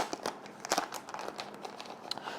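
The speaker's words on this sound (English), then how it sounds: "Nice plastic bag there, and we'll put that in here for a second so it won't blow away." Plastic bag crinkling during the unboxing of a DJI Mini 4 Pro drone kit, a string of quiet close crackles and rustles in irregular bursts, with no speech.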